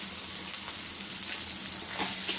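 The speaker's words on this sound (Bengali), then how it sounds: "এটাকে একটুখানি কষিয়ে নেব। 4-5 সেকেন্ড কষিয়ে নিলাম।" Ghee and garam masala powder sautéing in a khichdi pot give a steady, close sizzling hiss that runs without a break and stays alone, with no speech.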